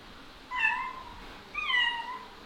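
A domestic cat meows twice, about a second apart, each call a clear rising-and-falling tone standing out close and moderately loud over quiet room noise in a watermill under construction in Portugal.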